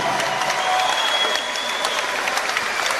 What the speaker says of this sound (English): Please give both boxers a big round of applause.